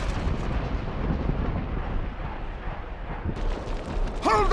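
Battle in the video game The Lord of the Rings: Aragorn's Quest, heard as a steady roaring rumble of fire and distant explosions that swells and fades, ending in a short shout.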